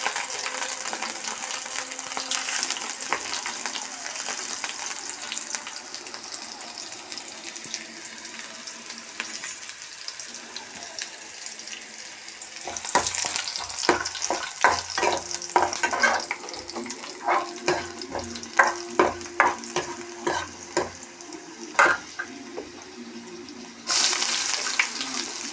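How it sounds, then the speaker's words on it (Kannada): Mustard seeds, curry leaves and garlic fry in hot oil, a steady hiss that turns into a run of sharp crackles and pops from the seeds partway through. The sizzle is close and fairly loud, and no one speaks. "ಎಣ್ಣೆ ಬಿಸಿ ಆದ ನಂತರ ಸಾಸಿವೆ ಹಾಕಬೇಕು"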